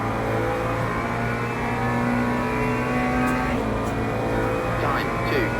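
Porsche GT3 race car engines in the Le Mans Ultimate game at a rainy Monza, a steady loud drone of engine tones shifting pitch as the cars jostle, running under continuous spoken commentary.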